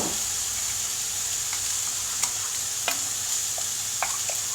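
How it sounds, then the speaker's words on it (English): Meat and white sauce being stirred in a pan, a soft steady sizzle with a few light scraping clicks from the utensil, close and fairly quiet, no voices. "and just stir it all in."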